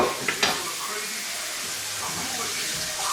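Steak frying in butter in a pan gives a steady, close sizzling hiss throughout, with a couple of sharper crackles and spits near the start.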